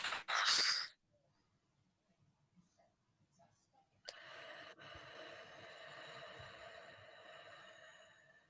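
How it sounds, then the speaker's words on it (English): A therapy client draws in one deep breath, a loud close rush of air under a second long, then near silence before a steady faint hiss. "So breathe in."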